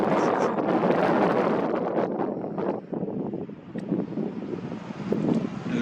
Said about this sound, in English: Out here with the wind, honestly.